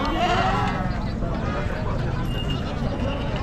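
Goats at a village livestock market bleat amid a loud, continuous crowd hubbub, with people talking throughout and the animal calls rising briefly over the din.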